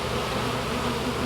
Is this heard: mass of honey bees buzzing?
yes